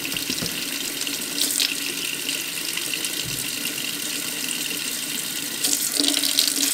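Cold tap water runs steadily into a sink while homemade butter is rinsed and pressed, a close continuous splashing rush with brief shifts as the butter moves under the stream.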